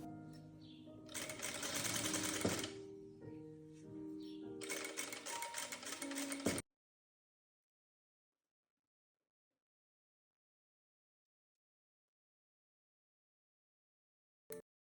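A sewing machine stitches a dart on a shirt in two loud bursts of rapid needle clatter, separated by a short pause, followed by a long silence and a brief final click.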